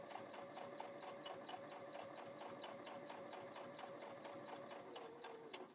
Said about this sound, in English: So my needle automatically stops down when I'm done sewing